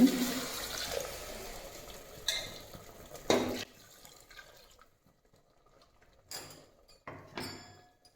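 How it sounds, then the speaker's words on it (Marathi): Water poured into a pot of spiced mutton for a Maharashtrian mutton rassa gives a splashy, gushing burst at the start that fades to quiet, with a few shorter splashes and clinks later, close and moderately loud. "नंतर याच्यामध्ये पाणी ॲड करते मिक्सर भांडून"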